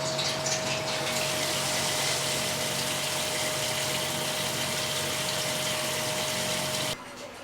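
Water gushes steadily into a tank to top up its level, a continuous rushing pour with a faint pump-like hum underneath that cuts off abruptly near the end.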